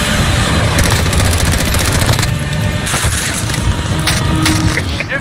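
Gunfire in Call of Duty Warzone, rapid automatic bursts and repeated shots crackling loudly and close over a busy battlefield din, continuous throughout.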